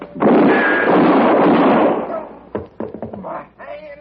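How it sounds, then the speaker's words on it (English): A gunshot sound effect in a 1959 Western radio drama, a sustained loud burst lasting nearly two seconds, followed by scattered sharp knocks and a rising voice. "That's one way to stop having to pay off a bet, Marquette. Shoot the winner in the back"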